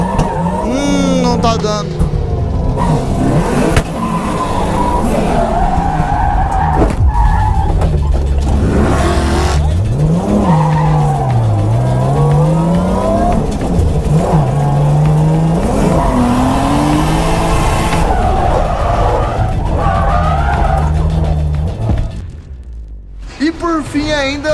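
A Nissan 350Z drifting with its engine misfiring: loud, close engine note surging and stuttering as revs rise and fall, with long tire squeal sweeping over it, while someone speaks briefly over the noise.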